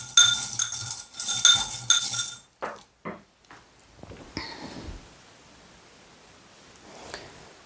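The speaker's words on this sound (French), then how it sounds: "je mélange" A utensil clinks and scrapes against a dish as food is stirred and mixed, busy rattling at first, then a few separate taps and soft scrapes.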